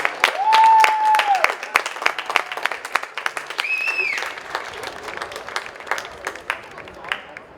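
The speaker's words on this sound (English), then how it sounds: "Let's give all 3 teams a round of applause." Spectators at The Villages Polo Club clap for the three polo teams after a match, scattered outdoor hand claps that start fuller and thin into sparse individual claps, with brief tonal whistles or calls mixed in.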